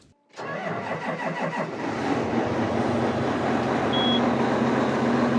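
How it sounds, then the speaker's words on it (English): A John Deere 9570R tractor's large engine cranks and starts with a sputtering rhythm, then settles into a steady, loud low rumble as it idles and warms up close by. "the tractor warms up"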